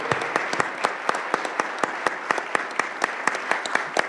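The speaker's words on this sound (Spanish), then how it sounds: "yo quisiera pedirles un aplauso para los chicos de los de arriba" Applause from the crowd at a Club León football podcast gathering, with steady clapping and sharp individual claps scattered through it, moderately loud and close, with no talk over it.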